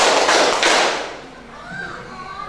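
A classroom of high school students clap together in a concentration clapping game, with a couple of loud, blurred group claps early on before a voice speaks and the room quiets.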